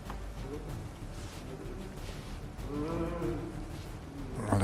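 A snooker fan in the crowd imitates a cow with a drawn-out, wavering human moo that rises in the middle, heard over the murmur of a quiet arena.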